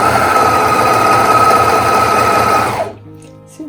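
Sewing machine stitching a seam on a simple skirt, a loud steady mechanical whir running close for nearly three seconds before stopping abruptly into near silence.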